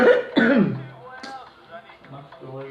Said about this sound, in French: viens de tousser dans mon direct.